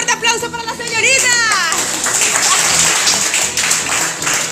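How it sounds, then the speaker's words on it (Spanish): A crowd claps and cheers loudly, with children's excited voices and a high squeal rising over sustained applause. "Un fuerte aplauso para la señorita."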